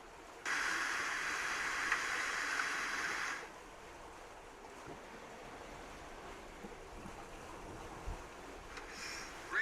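A Lagoon 450S sailing catamaran crosses open sea between Ua Pou and the Tuamotus, with steady rushing waves and wind noise, louder for the first few seconds, then a softer wash of water against the hull.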